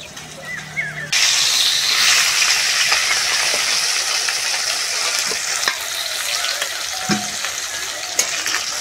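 Cauliflower sizzles and spits in hot oil used for frying hilsa fish, a sudden loud hiss that starts after a brief pause and keeps crackling steadily, with occasional clinks.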